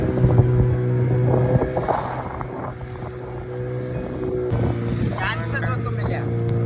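Fishing motorboat heading down a tidal creek toward the sea, its engine running with a steady low drone under wind buffeting and splashing water, while people talk nearby.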